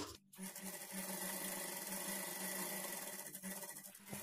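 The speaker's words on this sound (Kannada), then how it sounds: "ನಾನು ಇಲ್ಲಿಂದ ಸ್ಟಿಚ್ ಮಾಡ್ಕೊಳ್ತೀನಿ" A sewing machine stitching blouse lining to the main fabric, a steady fast mechanical whirring run, briefly pausing near the start and again near the end.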